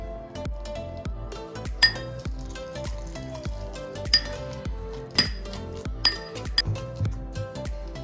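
Green chutney of coriander, sev and garlic pounded with a pestle in a mortar, a steady series of close, sharp knocks and clinks at an uneven rhythm with occasional louder strikes.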